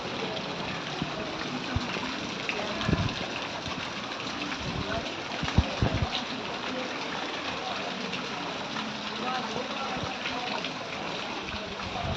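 A continuous rush of floodwater in a waterlogged area of Seujgari, Bogura, fairly loud and constant, broken by a few low thumps and splashes near the middle.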